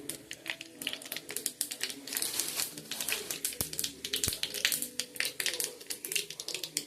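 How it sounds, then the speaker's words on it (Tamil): Mustard seeds splutter and pop in hot oil with fennel, cinnamon, cloves and cumin, a dense run of quick sharp crackles close by under a faint background murmur. "இப்போ ஃபைனலாக நான் கடுகு போடுறேன்."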